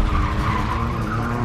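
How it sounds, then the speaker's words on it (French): A car slides through a U-turn with a continuous, loud tire skid and engine roar, steady and close throughout. "la voiture fantôme fait demi-tour"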